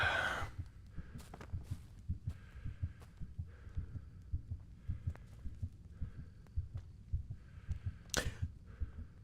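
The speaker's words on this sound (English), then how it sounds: "I can now hear my heartbeat" A heartbeat thumps steadily in Kingdom Come: Deliverance, low and rhythmic at about two beats a second over a quiet hum, with a few sharp clicks along the way.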